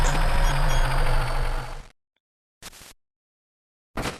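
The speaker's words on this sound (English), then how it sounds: "So our journey begins in a truck." A truck engine rumbles steadily in the Pokemon Emerald video game, then stops abruptly, followed by two short bursts of noise after the silence.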